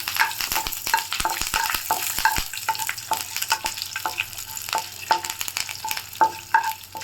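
Curry leaves crackling in hot oil alongside cashews, chana dal and mustard seeds, a dense steady sizzle peppered with rapid sharp pops and spatters, close and loud with nobody speaking.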